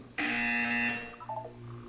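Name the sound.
buzzer in the video game Portal 2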